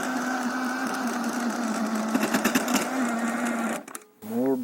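A garden tiller churns through soil containing bricks, its steady engine drone with rapid rattling bursts before cutting out abruptly near the end, followed by a voice.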